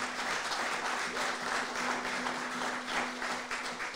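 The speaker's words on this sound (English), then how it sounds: "So give these ladies another round of applause" A small crowd applauds a group of women songwriters at a winery song round, a steady wash of clapping that holds for four seconds over a faint low hum.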